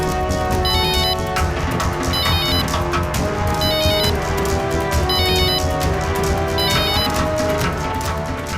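A ringtone for an incoming call plays loudly and without pause as a repeating electronic melody, with the same phrase returning about every second and a half over dense background music in a Hindi drama scene.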